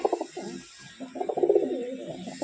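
Pigeons in a cage give a quick burst of soft, guttural cooing, nearby and continuous apart from a brief dip in the middle.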